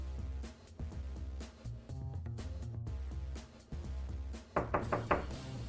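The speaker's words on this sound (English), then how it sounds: "The door seems to be blocked from the inside, and the music coming from the room is so loud, my knocking probably can't be heard." Knocking on a blocked door in the video game Secret Files: Tunguska, a series of dull thuds mixed under loud music playing from inside the room, with a few sharper knocks near the end.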